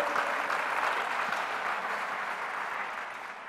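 A church congregation claps together in a dense, steady wash of applause that holds for a few seconds and then slowly fades, with no voices standing out.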